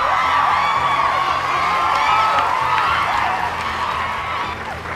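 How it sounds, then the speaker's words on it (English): A high school prom crowd in Mississippi cheers, whoops and shouts for the 2008 seniors, a loud, dense roar of voices that holds steady and then eases slightly toward the end. "Let's give the seniors of 2008 a big round of applause."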